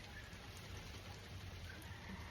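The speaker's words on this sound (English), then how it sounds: "literally pouring down rain." Heavy rain pouring down outdoors, a dense steady hiss of falling water that holds constant throughout, with no talking.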